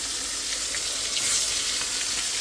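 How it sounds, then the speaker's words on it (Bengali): A vegetable bhaji fries on a stove, giving a steady, close hiss and sizzle of oil that stays even throughout, with faint light clinks and no talking. "পাশের চুলায় হলো ভাজি বসিয়ে দিছি"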